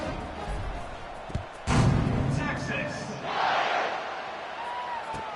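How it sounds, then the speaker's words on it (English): A stadium crowd in a college football video game, Texas vs Texas A&M, buzzes as a continuous roar that surges loudly partway through and swells again near the end. "this crowd is buzzing after that last score."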